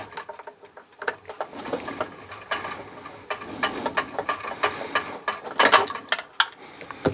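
Screws being removed and the cover taken off a Finesse electric overlocker, a close series of small metallic clicks, ratcheting screwdriver turns and plastic rattles in an irregular rhythm.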